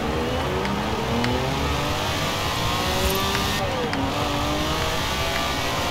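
A 1972 Lamborghini Jarama S, rear-wheel drive, revs hard while drifting, its loud engine note rising and falling continuously with tire noise throughout, close and unbroken.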